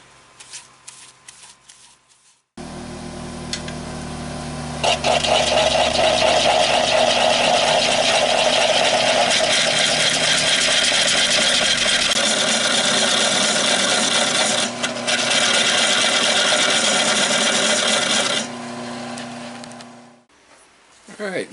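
A wood lathe spins a cherry bowl while the tenon is cut off the bottom, a steady loud whirring and scraping that starts abruptly, runs continuously with slight shifts, then stops near the end.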